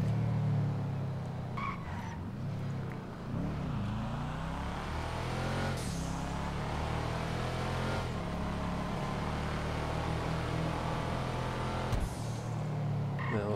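A Karin Boor in GTA Online revs and accelerates, its engine note climbing and dropping through gear changes while tires skid and squeal in several bursts, loud and close with no talking.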